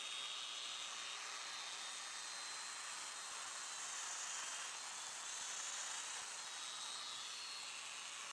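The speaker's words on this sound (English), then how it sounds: "let's cut the mortise" Domino joiner cutting a mortise for a button connector in a wooden tabletop, a steady loud high-pitched whine with no pauses, close up and with no voices.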